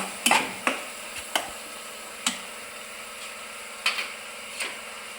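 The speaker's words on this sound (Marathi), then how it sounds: "चांगलं आपण हलवून घेऊया आणि आपले मसाले ॲड करूया याच्यामध्ये।" A spoon scrapes and knocks in a cooking pan as shev bhaji is stirred, a few sharp, separate clacks over a quiet, faint background.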